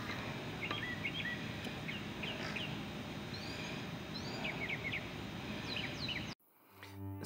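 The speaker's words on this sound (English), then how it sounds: "Listen to those birds singing." Birds chirp and sing in a home herb garden, scattered short calls repeating at a moderate distance over steady outdoor background noise, ending with an abrupt cut to near silence.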